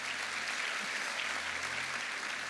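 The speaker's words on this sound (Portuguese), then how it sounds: "Você pode dar um aplauso ao Senhor?" A church audience applauds for the Lord during a Tabernacles 2019 worship service, a dense, steady wash of many clapping hands filling the whole moment.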